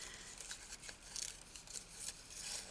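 Scissors snipping fabric cut from a vest for a journal craft, a series of faint irregular crisp snips and rustles close by in a quiet room, with no talking.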